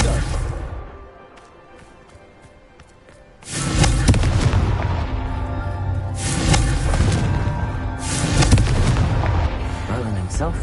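A Confringo fire spell goes off in Hogwarts Legacy, a sudden loud blast after a quiet stretch, followed by several more heavy booming bursts with crackling fiery tails, close and dominating, with a voice heard briefly.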